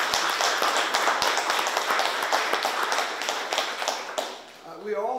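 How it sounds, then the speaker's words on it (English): A live audience at a government announcement event breaks into sustained applause, dense clapping filling the room for several seconds before tapering off as a voice begins speaking. "So please, we got to give him a giant round of applause."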